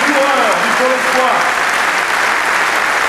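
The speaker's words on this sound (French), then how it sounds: "on applaudit très fort Adrien, Chloé, tous les coureurs du Pôle Espoir" A hall audience applauds young cyclists at a team presentation, a dense, loud wash of clapping that carries on steadily, with a voice speaking over the first second.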